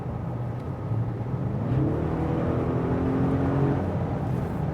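An Audi RS6 Avant Performance 605 hp V8 revs up and accelerates hard from 150 km/h on the Autobahn, a steady low roar rising in pitch and swelling louder midway, with no talking.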